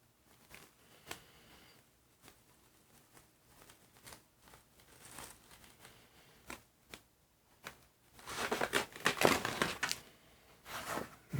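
Quiet, close crackling and ticking of paper slowly peeling away from a surface, with isolated soft snaps, then a louder rustling tear near the end.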